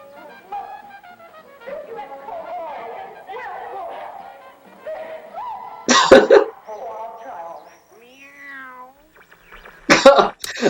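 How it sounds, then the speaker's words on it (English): Cats fight in the video game Tender Loving Care, trading wavering, drawn-out meows and yowls, broken twice by sharp, loud hissing bursts, with other sounds from the game around them. "it's a cat fight"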